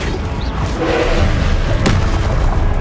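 A heavy booming thud from the Flipendo spell striking in Hogwarts Legacy combat, loud and dense over a constant roar of game effects, with a sharp crack near the end.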